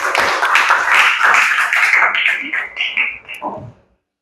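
A group's clapping for a presenting team at a teaching performance test session, a dense burst of handclaps over several seconds that thins out and stops near the end, with some voices mixed in.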